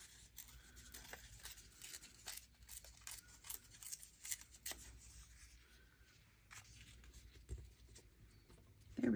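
Scissors trimming a paper junk journal tag, with soft intermittent snips and rustling paper close by in a quiet room.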